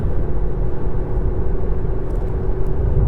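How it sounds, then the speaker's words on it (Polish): A Kia Niro 1.6 GDI plug-in hybrid's petrol engine cuts in while driving through town, adding a steady low rumbling drone under the cabin road noise with no talk. "teraz dołączył się silnik spalinowy"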